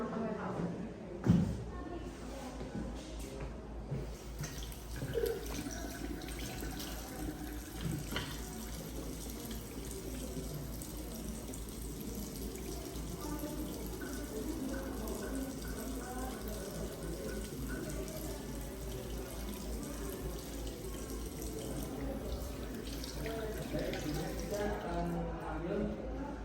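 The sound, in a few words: washing hands under running tap water at a sink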